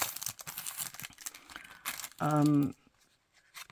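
Crinkly paper from an art kit is handled, giving one short loud crumpling burst after a stretch of quieter rustling and tapping; no speech is heard.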